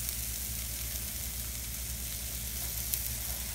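Fish patties frying in a pan give off a steady, close sizzle and crackle, constant and even with a low hum beneath, and no talking.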